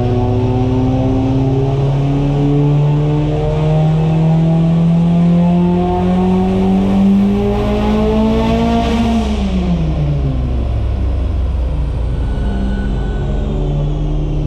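A turbocharged Evo 9 engine with a Garrett G42-1200 turbo revs hard on a dyno and climbs steadily in pitch, peaks, then drops off and winds back down to a lower drone, loud and close throughout.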